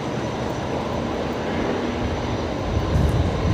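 A Jetstar Boeing 787 jet airliner taxiing at Brisbane Airport gives a steady, broadband engine rumble and roar, fairly loud and continuous, swelling slightly near the end with no talking.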